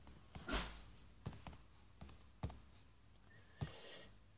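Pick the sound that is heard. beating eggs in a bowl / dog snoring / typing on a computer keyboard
typing on a computer keyboard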